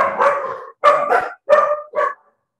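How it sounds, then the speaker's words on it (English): Dogs bark in four separate bursts, fairly close and loud, with short gaps between them. A couple of the barks come as quick doubled yaps, and no one talks over them. "Just excuse the dogs"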